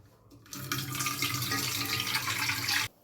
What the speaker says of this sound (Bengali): চালটা ধুয়ে ভাতটা বসিয়ে দিই।